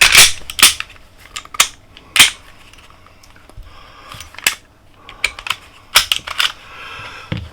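An Ermox X-Fire Glock-clone pistol with an aluminum frame is taken apart, giving a series of sharp metallic clicks and snaps at irregular intervals, close and fairly loud, with quiet gaps between.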